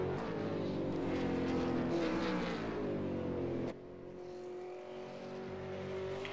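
A V8 Supercars race car on a qualifying hot lap at Zolder, engine droning loud and steady with rising and falling revs, then a sudden drop in level as it continues a little farther off.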